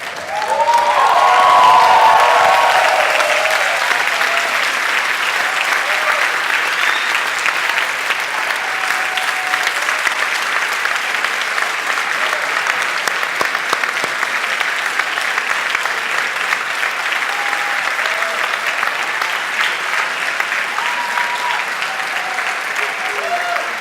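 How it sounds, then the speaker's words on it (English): At a graduation ceremony, a large audience gives sustained, even applause, loudest at the start, then holding a dense steady patter for over twenty seconds, with a few cheers and voices faintly mixed in. "give a warm round of applause to all the people that have supported you throughout these years"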